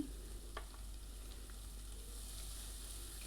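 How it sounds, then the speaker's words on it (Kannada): Sweet pumpkin stir-fry frying in a pan as turmeric powder is stirred in, a steady low sizzle running throughout with a brief scrape of the spoon near the start and no talking. "ಸ್ವಲ್ಪ ಅರ್ಶಿನದ ಪುಡಿ ಹಾಕ್ಕೊಂಡು ಮಿಕ್ಸ್ ಮಾಡಿ"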